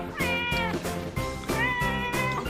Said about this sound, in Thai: อ่าติดน้องแมวนะนี่ครับ